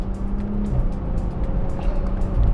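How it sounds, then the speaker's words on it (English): A Jaguar F-Type sports car's rear exhaust rumbles while it drives, a deep, steady engine drone heard close with a slight rise toward the end. "the noise that comes out the back of this car"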